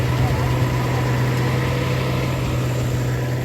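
A farm machine engine runs steadily with a low, continuous hum and drone, close and fairly loud throughout, with no pauses or changes in pitch.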